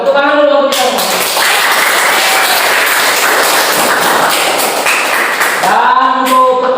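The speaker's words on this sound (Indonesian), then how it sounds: "tepuk tangan dulu untuk kita semua" Classroom pupils applaud together during a lesson, a dense burst of clapping lasting several seconds, with voices heard at the start and end.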